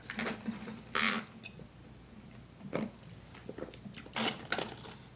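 Close crunching bites into a hard-shell Taco Bell taco, a few sharp crackling bursts separated by softer chewing, with no talk.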